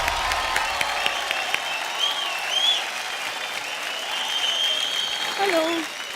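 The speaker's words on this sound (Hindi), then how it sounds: "जोरदार तालियां।" Applause rolls through a studio comedy show audience, steady and fairly loud across the whole stretch, with a few whoops and faint voices over the clapping.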